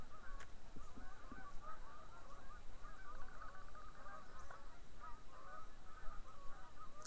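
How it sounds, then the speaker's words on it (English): Snow geese honking repeatedly at a distance over a steady outdoor background hiss in Northern California, calls overlapping in loose irregular bursts. "Canadian snow geese."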